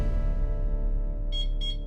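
Home panic alarm sounding, two short high electronic beeps near the end over a steady low hum.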